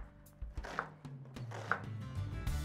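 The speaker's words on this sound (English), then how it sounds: "We're going to go straight down on the onion. And then you can cut across." A kitchen knife chops down through an onion in a few quick, soft cuts on a board. The chopping is faint and comes in an uneven rhythm.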